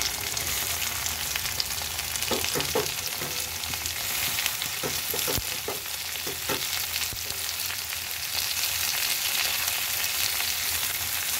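Green tomato drops into onions already frying in a pan, giving a constant loud sizzle with a few stirring knocks and scrapes early on, close and without speech.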